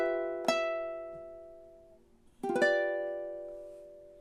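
Ukulele plucks the closing measure of a song's melody: two separate strummed chords about two seconds apart, each ringing out and slowly decaying, close and clear with nothing else heard.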